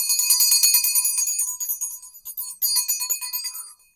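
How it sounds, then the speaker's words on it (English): A small hand bell rings rapidly and continuously up close, bright metallic jingling that briefly pauses, resumes, then stops. "And my mom's bell."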